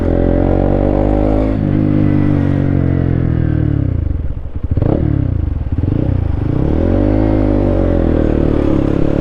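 A Honda CB125 motorcycle with an aftermarket exhaust drones loudly while being ridden, a close, continuous engine note that dips briefly as the throttle eases off, then picks back up and holds steady.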